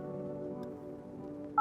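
A single electronic keypad tone sounds briefly at the very end, after a steady low electronic hum, as a phone number is dialed in the video game No, I'm Not A Human.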